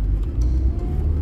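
A car drives past on a street, a brief low engine rumble swelling and fading close by, with faint voices in the background.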